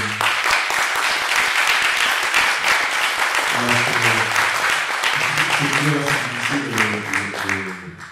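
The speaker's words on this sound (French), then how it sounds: "qu'on leur fasse un petit applaudissement" A live audience applauds speakers at a French hip-hop culture conference, dense steady clapping filling the room throughout, with a voice speaking over it midway before the clapping thins near the end.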